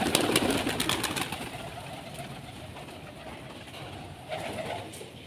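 Pigeons kept in a coop and fed millet coo and rustle close by, a soft, steady murmur of birds with a busier burst near the start and another toward the end.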